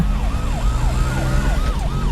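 Ambulance siren in a Telugu action movie scene wails in repeated falling sweeps, about seven cycles in two seconds, loud and steady over a dense low rumble of traffic and background noise.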